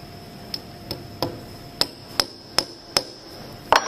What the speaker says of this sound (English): you want to hammer this down as far as you can without nailing it to the table